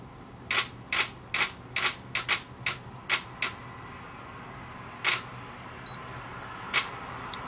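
A DSLR camera shutter fires bracketed HDR shots in a rapid burst of about nine crisp clicks, then two more isolated clicks after a pause, close and clear with no talking.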